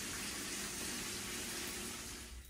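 Water gushes steadily into a Bestway Lay-Z-Spa inflatable whirlpool hot tub, a constant close filling rush that eases slightly at the very end, with no talking.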